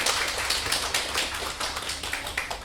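Steady applause from a crowd at the Constructing Excellence Wales Awards 2020 ceremony, many hands clapping densely and continuously at a fairly close, even level with no voices over it.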